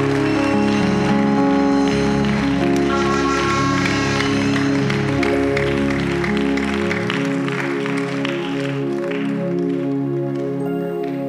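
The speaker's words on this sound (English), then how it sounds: "let's clap for him if you're clapping for him, if you're celebrating." A church congregation claps together during a celebratory worship moment, a dense, steady wash of many hands that fills the space loudly throughout, with a voice and sustained music tones running beneath it.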